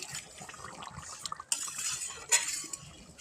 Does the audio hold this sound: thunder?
no